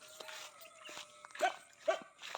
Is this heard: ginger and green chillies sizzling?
no